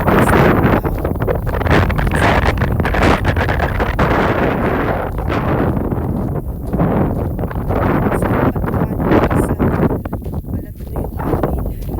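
Steady wind roars across the microphone outdoors, a continuous buffeting rush with gusts rising and falling throughout and no voices.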